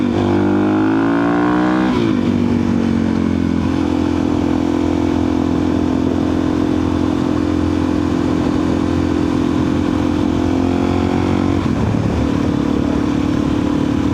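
A Suzuki DRZ 400 supermoto motorcycle being ridden, its single-cylinder engine loud and close, revving up then holding a steady buzzing drone with a brief gear-change dip near the end.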